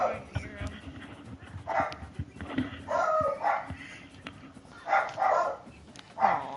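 Dogs inside a house bark at something outside, with several sharp barks and yips in clusters, separated by quieter stretches, fairly close but not very loud.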